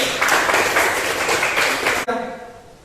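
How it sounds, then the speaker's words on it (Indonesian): A classroom of students claps together in a dense burst lasting about two seconds, then it cuts off abruptly, leaving quiet room tone with a faint voice. "tepuk tangan dulu"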